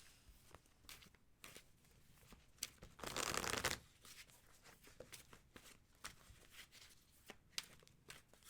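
Tarot cards are handled and shuffled close up: soft scattered taps and slides, then a brief louder riffling burst midway, followed by more quiet, irregular card handling.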